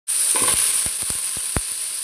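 Brinjal pieces fry in hot oil in a pan for an Andhra-style raw mango tomato curry, giving a loud, steady sizzle. A few soft stirring knocks sound from the pan.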